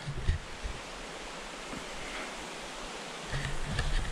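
A river flows beside a waterfall in early-winter snow, heard as a steady, soft broadband rush of water from some distance, continuous throughout with a few faint bumps and no voices.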